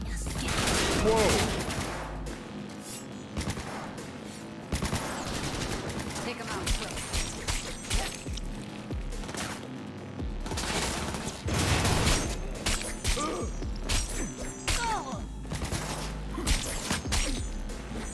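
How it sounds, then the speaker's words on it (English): Precision rifle gunfire in the video game Cyberpunk 2077, loud repeated shots and bursts over dense game music and effects, with some voices mixed in. "That was a precision rifle."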